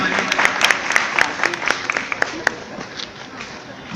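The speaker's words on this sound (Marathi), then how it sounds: "सर्वांसाठी पुन्हा एकदा जोरदार टाळ्या वाजल्या पाहिजे" Audience applause welcoming guests at a Dr. Babasaheb Ambedkar Jayanti event in Kalyan: a steady wash of many hands clapping, with sharp individual claps standing out, continuing throughout under a speaking voice.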